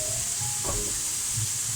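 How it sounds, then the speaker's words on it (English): Meat for shepherd's pie sizzles in a hot pan. A steady, loud frying hiss carries on throughout, with a brief clink of a utensil near the start. "so I want to start frying"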